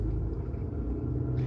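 Car engine with a broken muffler rumbling close by, a steady heavy low drone filling the whole moment with no speech over it.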